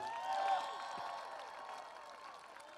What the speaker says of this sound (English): Let's give them a round of applause, graduates.